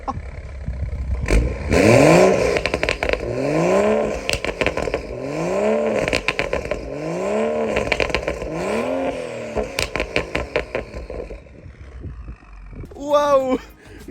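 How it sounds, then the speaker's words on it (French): A BMW M135i's six-cylinder turbo engine revs repeatedly, rising and falling in several strong sweeps, then idles with rattling pops before one last rev; voices talk over it. "Le turbo, le son du turbo, c'est incroyable. Mais le 6 cylindres, il fait un de ces bruits."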